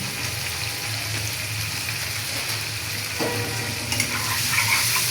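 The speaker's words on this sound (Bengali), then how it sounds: "নাড়াচাড়া হইয়া সব কিছু একসাথে মিক্স করে নিমু হলুদ আর লবণের" Potatoes with turmeric and salt fry and are stirred in a pan, a steady close sizzle with scraping stirs, growing busier near the end; no talking.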